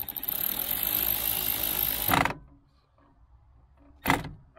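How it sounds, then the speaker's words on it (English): A ratchet tightens a nut on the sliding door of a 2014 Honda, making a continuous rapid clicking whir for about two seconds that stops abruptly, followed later by one short sharp burst. "Let's tighten that nut."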